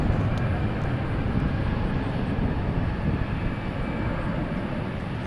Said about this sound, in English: Dash 8 freighter.